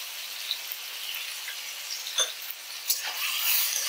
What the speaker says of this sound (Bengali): আমি এখানে ভাতটা করে নেওয়ার পর গাজরটা প্রথমে ভাজছি